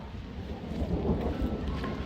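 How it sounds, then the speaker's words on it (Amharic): Steady rain pours outdoors with a low rumble of thunder rolling through it, a continuous, fairly loud wash of noise with no voices. "ዘንቦን ዝናብ እያየሁ ነው አይደል?"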